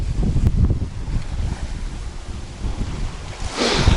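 Strong wind buffets the microphone while river waves wash and churn nearby, with a louder gust of rushing water toward the end.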